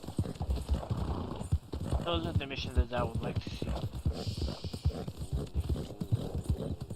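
A horse in Red Dead Online trots with steady clip-clopping hooves throughout, joined by a brief whinny, all under continuous talking.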